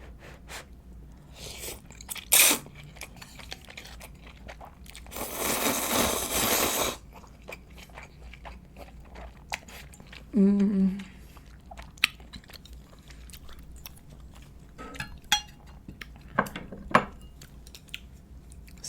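Spicy seafood noodle soup being eaten close up: scattered wet bites and chewing, with a long loud slurp of noodles and a shorter slurp later, and soft clicks of cutlery between.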